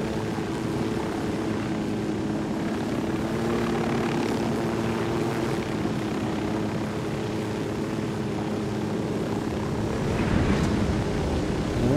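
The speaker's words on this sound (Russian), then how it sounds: "Где бы нам вертушку посадить, чтобы не сломать ей лопасти?" A helicopter in the video game Ghost Recon Wildlands comes in to land, its rotor and engine producing a steady, loud droning whir for the whole stretch, with no voices.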